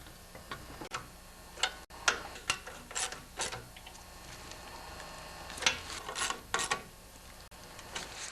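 Nuts being threaded and tightened by hand onto the carburetor studs of a 10HP Briggs engine on a wood chipper shredder, heard as scattered light metallic clicks and ratcheting taps, close and quiet, no talking.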